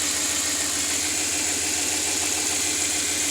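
A 1959 Chevy Biscayne engine runs at a steady idle close by, a loud continuous rumble with an even low throb and no talk over it.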